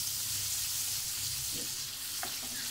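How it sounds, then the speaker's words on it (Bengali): Chopped onion frying in leftover fish-frying oil with cinnamon and bay leaves, a steady close sizzle with faint stirring clicks near the end and no talk. "মাছ ভাজা তেলে পেঁয়াজটাকে ভেজে নিব"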